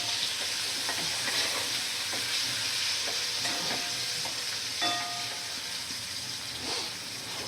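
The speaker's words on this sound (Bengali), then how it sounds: "ক্যাপসিকাম দিয়ে ভালো করে ভাজা করে নেব" Chopped capsicum pieces fry in a pan for pasta, giving a continuous close sizzle with spatula scrapes and clinks as they are stirred, steady throughout with no speech.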